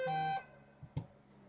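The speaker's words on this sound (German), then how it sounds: "Das ist mein Handy Klingelton." Mobile phone ringtone beep, a short bright electronic tone at the start, followed by a couple of faint soft knocks, otherwise quiet.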